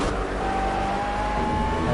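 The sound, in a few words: GT3 race cars at Laguna Seca in a racing video game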